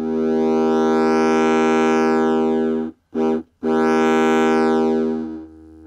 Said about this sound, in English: there's loads of drive and character, which sounds great, reminds me of a small guitar amp